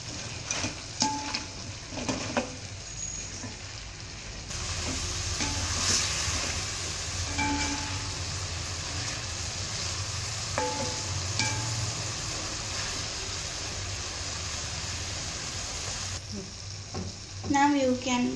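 Mie Goreng ingredients sizzle and fry in a pan while being stirred, a steady close crackle running throughout with a few soft scrapes and brief quiet speech near the end.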